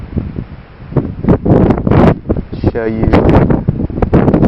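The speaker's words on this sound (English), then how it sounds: "Pretty windy tonight, pretty blowy." Wind gusts outdoors at night, buffeting the microphone in rough bursts while someone talks over it.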